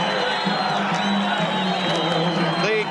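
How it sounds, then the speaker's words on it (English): A boxing crowd at Caesars Palace in Las Vegas roars and cheers before a fight, a dense, sustained wall of voices with scattered whoops throughout. "The crescendo builds from this crowd here at Caesars Palace in Las Vegas."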